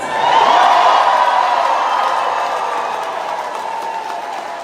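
Rally crowd of supporters at a midday Wednesday event in Humble and Kingwood, Texas, giving a broad, sustained roar of applause and cheering that starts loud and slowly tapers off, with no other voices on top.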